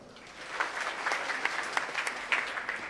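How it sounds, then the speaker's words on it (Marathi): Scattered clapping from a crowd at a political rally, fairly faint and steady for a few seconds. "या कार्यकर्त्यासाठी सगळेसाठी टाळ्या वाजवा"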